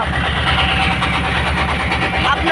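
Trawler boat engine running on the Padma river near Chandpur, a steady loud rumbling drone with continuous low throbbing, alone without talk.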